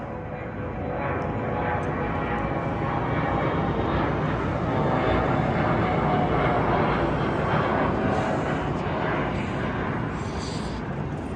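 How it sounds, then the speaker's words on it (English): A propeller airplane drones overhead among the Allegheny mountains near Charleston, West Virginia, a steady broad engine roar that swells slightly in the middle and holds for the whole stretch. "Yeah, it's a plane."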